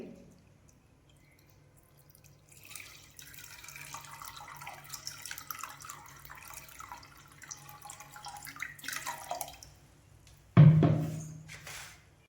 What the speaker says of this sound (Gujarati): ડૂબે તેટલું પાણી લઈએ.